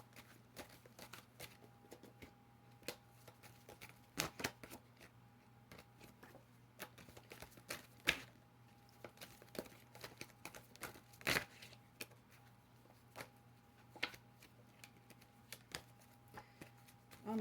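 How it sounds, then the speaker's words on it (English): Tarot cards being shuffled by hand: faint, quiet papery clicks and riffles scattered irregularly over a soft steady background hum, with no voices. "Let me do a quick shuffle."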